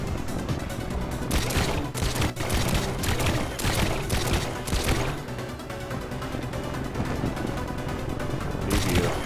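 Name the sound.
guns firing in Trailmakers video game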